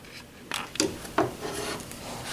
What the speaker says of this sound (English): you're going to want to trim away the excess fusible fleece. I'm going to do that now.